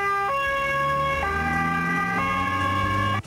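A loud ambulance siren wails close by in a repeating two-tone pattern, its pitch stepping between high and low notes steadily over a low vehicle rumble, with no talk.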